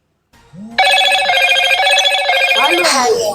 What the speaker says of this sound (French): la vieille sonnerie là. Le Motorola.